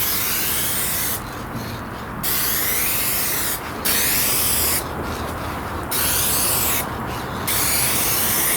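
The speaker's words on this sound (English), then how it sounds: "So what I'm doing here is spray painting extra lacquer along these lines." A spray gun hisses in a loud, continuous blast while spraying lacquer on a Subaru WRX panel, cutting out briefly several times in a stop-start rhythm, close by with no talking.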